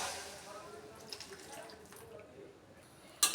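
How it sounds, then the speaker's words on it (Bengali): Hot water is poured into a pot of chickpea and pea curry, giving a brief liquid splash and trickle under background kitchen noise, ending with a sharp clatter. "এবার আমি গরম জল বসিয়ে দিয়েছি, এবার আমি গরম জলটা দিয়ে দেবো।"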